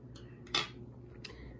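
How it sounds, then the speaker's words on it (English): Scissors snipping through birch bark to cut out a basket shape: a few crisp, isolated cuts, one louder than the rest, close up and quiet, with no talking. "we're going to take our scissors and we're going to cut the basket out of the birch"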